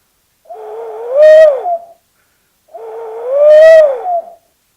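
Two long rising-and-falling hoots blown on a hoot flute imitating a barred owl's who-cooks-for-you call, each lasting about a second and a half with a pause between, loud and close with no talk.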